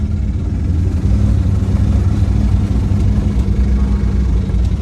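A V8 Jeep engine drones as the vehicle drives, hesitating, with a steady low rumble and road noise filling the cabin throughout, fairly loud and close, with no talking.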